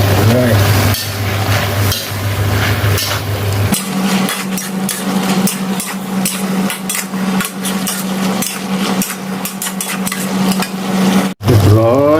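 Spicy wild boar stir-fried in a pan, with loud, steady sizzling and repeated clanking of a utensil against the pan throughout, and a brief pause near the end.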